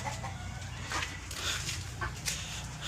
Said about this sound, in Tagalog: Ito yung manok namin yan.